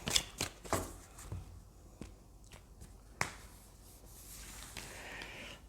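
Tarot cards are handled and laid down on a surface in soft, close rustles and light slaps, several sharp clicks early on, then scattered taps and quiet brushing.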